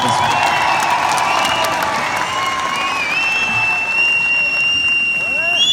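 A live concert audience at Wembley Arena in 2018 claps and cheers in a dense, sustained wash of applause for several seconds, while a voice speaks over it and faint tonal notes sound in the background.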